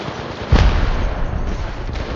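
A grenade detonates in Apex Legends Mobile, a single low thud at mid-clip followed by a lingering rumble under steady game ambience.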